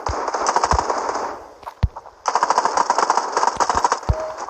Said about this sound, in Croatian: Sina FM dobio si headshot ovaj put